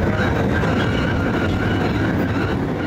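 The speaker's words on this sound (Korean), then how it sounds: "열차의 속력이 줄기 시작했다." A Darjeeling train runs on its rails while slowing, a loud, steady close rumble with soft rattling and a faint metallic whine, no voices.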